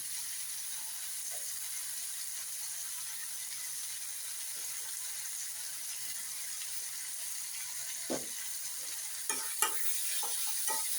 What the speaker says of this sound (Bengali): এগুলো দিয়ে আমি এখন একটু এইভাবে ভেজে নেব, যাতে টমেটোগুলো একটু নরম হয়ে যায়